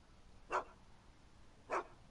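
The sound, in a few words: dog barking in the Back to the Future video game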